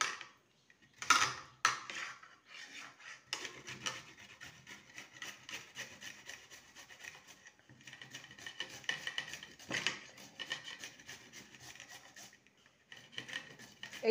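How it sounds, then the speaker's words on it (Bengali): Taro root is scraped over a large grater in a kitchen, giving a steady run of quick rasping strokes, close and fairly quiet, with brief pauses between passes. "এবারে একটা গ্রেটারের সাহায্যে কচুটাকে গ্রেট করে নেব।"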